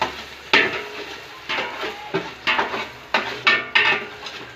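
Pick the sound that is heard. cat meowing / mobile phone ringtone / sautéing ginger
sautéing ginger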